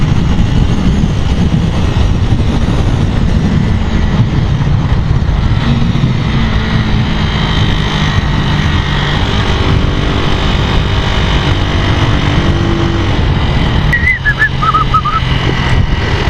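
A Demak D7 motorcycle ridden on a road in Iskandar Puteri, Johor, gives a loud continuous engine hum and wind rush, with passing traffic rumble and a brief higher whine near the end.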